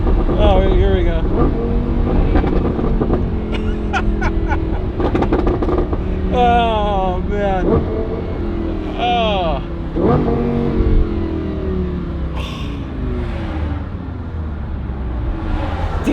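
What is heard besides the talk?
Lamborghini Huracan engine revving and downshifting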